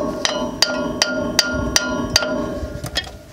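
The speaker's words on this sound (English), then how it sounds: "You beat them with the hammer if they're stuck like these ones are." A hammer strikes stuck semi-truck brake parts about eight times in an even rhythm, each sharp metal clang ringing briefly, close by with no talking.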